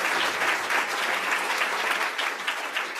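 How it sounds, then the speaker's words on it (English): A conference audience applauds at the close of the event, a dense, steady clapping from a crowd that carries on evenly throughout with no voices above it. "can we just give Melissa another big round of applause"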